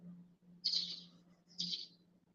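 Two short, bright bird calls ring out outdoors about a second apart, each a brief chirping burst standing clearly above a steady low hum in the background.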